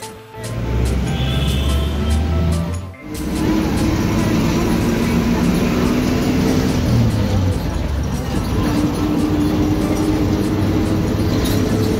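A metro train in Pune runs loud and close, a steady broadband rumble and rush that briefly dips near the start before holding on continuously.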